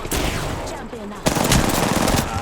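Rapid automatic gunfire rattles close by in the shooter Apex Legends, a burst of bright cracks, a brief lull, then a second louder stretch of continuous shots.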